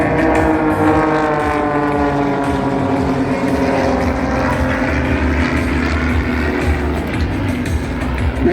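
Propeller aircraft of an aerobatic team flying tight formation moves at a regional coastal airshow, giving a loud, continuous engine drone that holds steady throughout, with a faint voice underneath.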